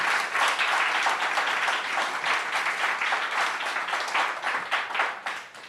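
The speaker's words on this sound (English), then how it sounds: "maybe a little round of applause to welcome Anne would be appropriate" A studio audience claps steadily to welcome a guest onto a talk show, a dense, sustained round of applause that holds at full strength for several seconds before tapering off near the end, with no talk over it.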